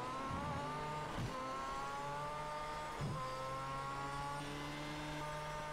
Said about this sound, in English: And that engine sound, we have a small engine compared to those guys